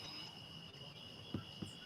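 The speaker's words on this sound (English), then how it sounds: "All I hear is the crickets singing in the background." Crickets chirp outdoors in the evening after a day of rain, a faint, steady high-pitched trill that runs continuously, with a couple of soft thumps nearby.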